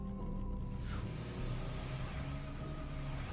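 A car rams into an obstacle in a zombie-themed detective video game, heard as a loud, continuous engine rumble with a whooshing rush building through the short burst.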